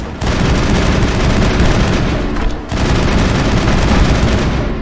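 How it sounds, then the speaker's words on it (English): Rapid, sustained automatic gunfire from the Mass Effect video game, loud and dense, with a brief dip partway through before the barrage resumes. "You don't even know where you're shooting."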